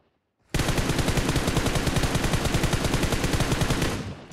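Sustained automatic gunfire in PUBG Mobile, a loud, rapid burst of evenly spaced shots that starts abruptly and holds without pause for nearly four seconds before cutting off.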